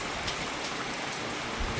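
Heavy rain falls in the Sundarbans during the monsoon, a dense, even hiss of drops on surfaces, loud and unbroken, with no talking.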